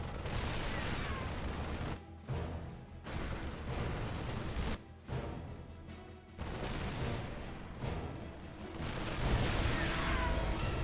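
Marines and siege tanks trading fire in a StarCraft II match, with a dense, continuous clatter of rapid gunfire and booming shots, briefly dipping twice before swelling again.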